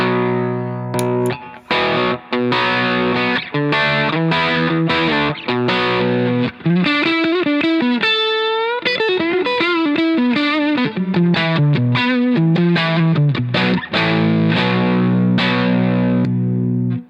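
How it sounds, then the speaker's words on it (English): Higher-gain overdriven electric guitar through a 30-watt 6L6 tube combo amp with a higher-gain overdrive pedal, playing a riff of chords and single-note bends, continuous, saturated and sustaining. "the other side of the Duelist pedal I have set to a little more gain"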